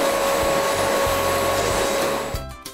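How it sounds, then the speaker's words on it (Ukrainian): A vacuum cleaner runs steadily and loudly over a carpet being cleaned of pet hair, a constant close motor whine with a high tone, cutting off near the end. "Поприскайте, зачекайте, доки висохне, пропилососьте."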